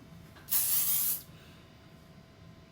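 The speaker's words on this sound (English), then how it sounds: "I have not tried out the hairspray. So let's give it a shot." A Major Moment strong-hold hairspray can fires one steady hissing burst of about three-quarters of a second, close and loud, in an otherwise quiet room.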